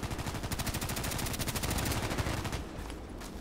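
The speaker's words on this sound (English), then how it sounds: "I heard some shooting on the left" Sustained automatic gunfire from an online first-person shooter match, Contract Wars, rattling in rapid continuous bursts for about two and a half seconds before tapering off, with no talk over it.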